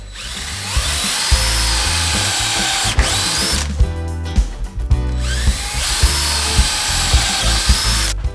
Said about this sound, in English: Now for the 6mm drill bit, and I'm going to drill all the way through.